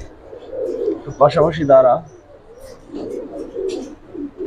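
Pigeons of a large breed coo softly at a pigeon farm, a few throaty murmurs mixed with people talking close by.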